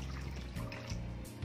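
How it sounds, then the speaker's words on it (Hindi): Water poured into strained falsa (phalsa) fruit pulp left over from making juice, a steady close trickle and splash lasting the whole moment with no talking. "हम इसमें थोड़ा सा और पानी ऐड करेंगे।"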